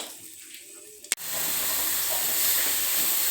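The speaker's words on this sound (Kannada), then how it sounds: "ಇವಾಗ ನಾನು ಹಸಿ ಮೆಣಸಿನಕಾಯಿಯನ್ನು ಎಣ್ಣೆ ಹಾಕಿ ಹುರ್ಕೊಳ್ತಾ ಇದ್ದೀನಿ ಫ್ರೆಂಡ್ಸ್" Green chilies hit hot oil in a pan: after a quiet start and one sharp knock, a loud, steady steaming hiss and sizzle takes over and holds close up.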